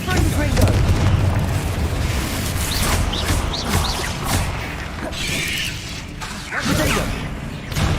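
A Confringo fire spell explodes in the video game Hogwarts Legacy, heard as a burst with whooshing and booming blasts amid other combat effects, while a voice calls out over the action.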